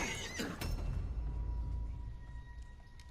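A horse in Red Dead Redemption 2 lets out a short, loud whinny up close, followed by snorting and low rumbling noise as the sound fades.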